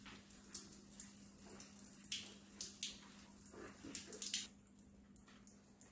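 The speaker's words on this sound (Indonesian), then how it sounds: "Makanya air dari atas tadi kan mengalir melalui saluran pembuangan ini." Water drains and drips through the drain channel of a water dispenser during cleaning, a faint irregular run of splashes and trickles close by with a hum underneath and no talk.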